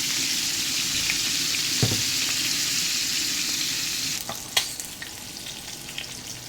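Food frying in oil in a pan gives a steady, close hiss and crackle throughout, broken near the end by a few sharp clinks as it is turned.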